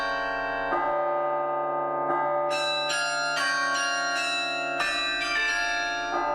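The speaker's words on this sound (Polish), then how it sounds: "Gdy wieży kościoła świętej Katarzyny rozbrzmiewa dźwięk karilonu, miasto zamienia się w amfiteatr." Carillon bells of St. Catherine's Church in Gdańsk ring out in a melodic sequence of clear, sustained tones, one struck after another with long resonant overlap, loud and without voices.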